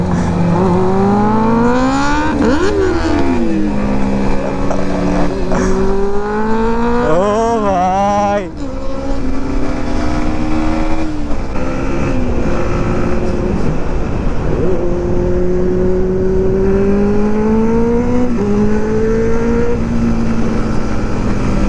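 A Benelli 600i motorcycle with a very loud aftermarket exhaust revs and rides hard, its engine note rising and falling through repeated throttle blips and climbs, with other traffic noise around it.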